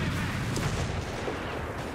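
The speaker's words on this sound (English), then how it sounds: "Artillery strike underway!" Continuous rumbling barrage of an artillery strike in Company of Heroes 3 during a 3v3 match, dense overlapping booms and gunfire forming a steady loud wash with no clear gaps.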